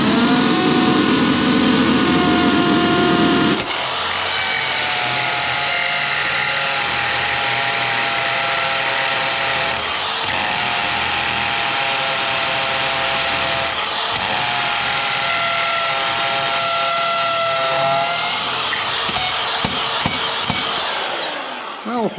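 A power drill whirs steadily, drilling a new hole during bathroom renovation work, with a grinding, ratcheting mechanical texture that shifts pitch as the bit bites, loud and close throughout.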